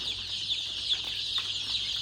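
Many young desi chicks in a poultry shed keep up a dense, continuous, shrill peeping, a chorus of overlapping high chirps close by with no talking.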